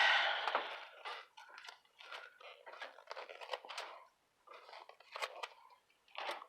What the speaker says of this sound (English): I'm going to grab my scissors just because it's irritating me.